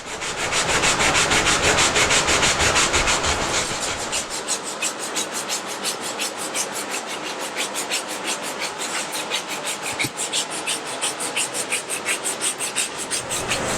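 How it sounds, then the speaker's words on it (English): Small wooden pieces are sanded to take writing off. The scrubbing is loud and close, first as a dense continuous rub, then as fast rhythmic strokes that repeat evenly, with no talk. "the sanding will take that writing off"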